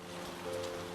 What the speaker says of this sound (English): Oh, we can't get a little break from the rain.